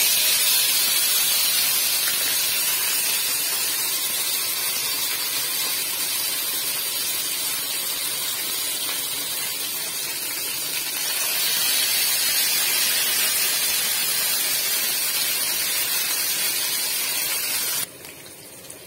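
Water poured onto a frying paste of ginger, cumin, green chilli, poppy seed and melon seed hisses and sputters in a pan, a steady loud steam hiss that swells midway and cuts off abruptly near the end, with no talking.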